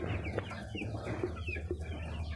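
Backyard chickens cluck busily at feeding time, a dense overlapping chorus of soft clucks and squawks from a flock nearby, with no talking.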